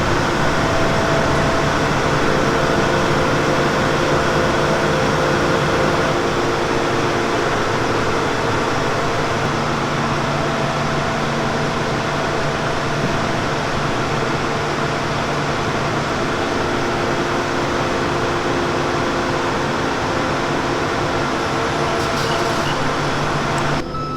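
A Geringhoff Horizon 12-row folding corn head fitted with stalk stompers is lifted and folded on the machine, giving a steady, loud, broadband mechanical drone of engine and hydraulics that runs unbroken throughout with no talk.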